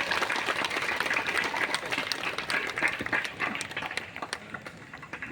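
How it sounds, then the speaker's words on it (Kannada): An audience at an award ceremony claps steadily, the dense, even applause filling the whole stretch with no voices rising above it. "ಒಂದ್ಸರ್ತಿ ಎಲ್ಲರೂ ಜೋರಾಗಿ ಚಪ್ಪಾಳೆ ತಗ್ರಿ"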